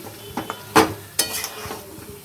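Chilli chicken gravy cooked without frying is stirred slowly in a pan, giving a few distinct scraping and clinking strokes of a spoon against metal over a soft sizzle.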